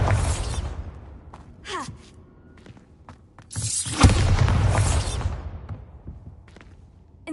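A Bombarda blast spell fired in the Hogwarts Legacy game: a loud booming explosion with a whooshing burst at mid-clip that tails off, preceded by a smaller whoosh and a brief shout.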